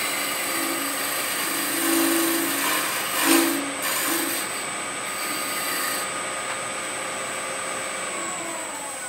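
A wood lathe spins a piece of wood as a turning tool scrapes and cuts it, a steady whirring drone with a faint hum, brief rises where the tool bites, and no talking.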